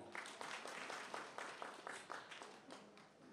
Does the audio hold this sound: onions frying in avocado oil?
no